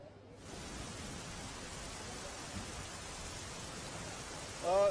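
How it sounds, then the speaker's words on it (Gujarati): Heavy, incessant rain falls on Madhavpur town in Porbandar district, a constant, even hiss that starts abruptly and holds steady, with a brief tonal sound at the very end. "માધવપુર પંથકમાં પણ અવિરત વરસાદ વરસી રહ્યો છે"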